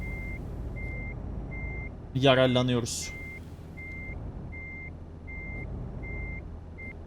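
A truck's reversing alarm in TruckersMP on the Kirkenes mine road, driven with a G27 wheel, beeps at a steady, even rhythm over a low engine rumble, interrupted briefly by someone speaking.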